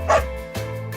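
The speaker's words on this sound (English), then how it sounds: "This is a dog." A dog gives a single close bark followed by a softer low whine, brief and alone with no talk.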